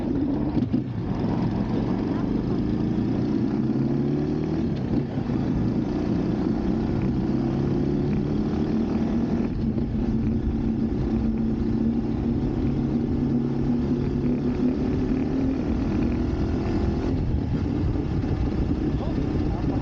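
A GRY 200 motorcycle riding along a road, its low engine drone steady and continuous with shifting tones and heavy wind rush over the microphone.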